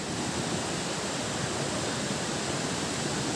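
The Katalkada waterfall near Rajapur roars in a dense, loud, unbroken rush of falling water that fills the whole scene close up, with no talk.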